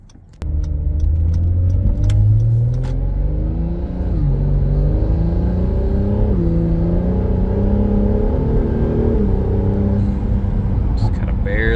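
A 2017 Acura NSX SH-AWD driven gently from inside the cabin, its engine droning at moderate revs with a couple of pitch drops as it shifts gears, steady and close, with a few clicks at the start.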